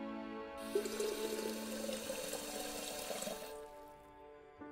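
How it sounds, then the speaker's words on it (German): Hot water pours into a teacup in the game Lost Words, a soft splashing fill lasting about three seconds over a faint tonal game background. "In die Tasse kommt der Teebeutel. Dann kommt das heiße Wasser drauf."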